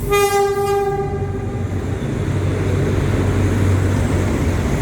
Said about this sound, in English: Who's this honking? I hear a train coming in.